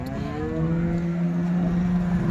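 A cow gives a long, low, steady moo close by, with faint crowd noise of the busy Loni cattle market in Maharashtra, holding two to three thousand cows, behind it.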